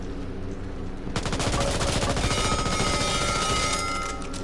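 MP5 submachine gun in Back 4 Blood firing a sustained automatic burst, loud and dense with rapid shots starting about a second in and running to the end, layered over steady game ambience.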